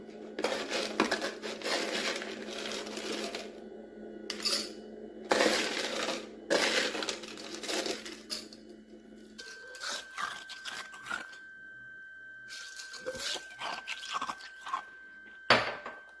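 Someone chews soft ice from a Freezimer Dreamice X1 countertop ice maker, producing loud, close, irregular bursts of crunching and crushing with short pauses between bites, no talking.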